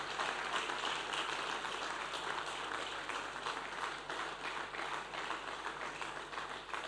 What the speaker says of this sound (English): Please keep clapping as he comes